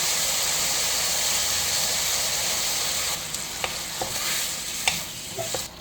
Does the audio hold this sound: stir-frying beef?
yes